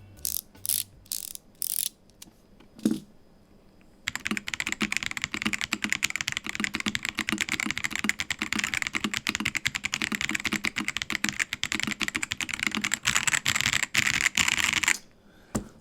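Rapid typing on a modded AK820 mechanical keyboard fitted with Dareu switches: a few isolated keystrokes first, then a dense, continuous run of close, crisp clacks for over ten seconds before it stops.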